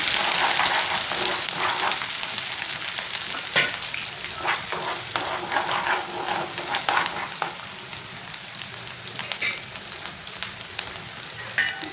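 Egg bhurji fries in a pan with onion, chilli, curry leaves and capsicum, giving a steady close sizzle with scraping stirs and sharp spatter crackles throughout, no voices.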